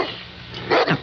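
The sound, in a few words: big dog barking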